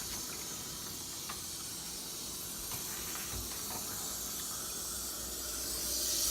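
Water fills an eSpring water filter unit after a cartridge replacement, making a steady, close hiss with faint gurgles and no talk.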